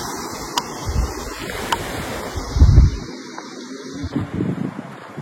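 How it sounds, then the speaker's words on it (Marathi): The Pachan river rushes past in a continuous churning wash, mixed with gusty wind buffeting the microphone and a heavy low surge midway. "पाचन नदी कशी वाहते बघा"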